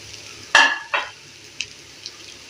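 Cooked rice tipped into a pan with scrambled egg for Tamil-style egg rice, a sharp scrape and sizzle burst followed by a second stir and a few faint clinks, otherwise quiet.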